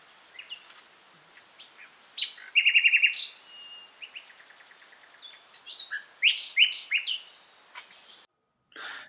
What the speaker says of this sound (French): Le rossignol philomèle, qui est un merveilleux chanteur.